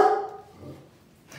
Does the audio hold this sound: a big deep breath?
no